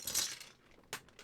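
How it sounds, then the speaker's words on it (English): A small plastic keyboard keycap drops onto a hard surface with a bright clatter, then a couple of quieter ticks as it settles, close and brief. "Keycap down."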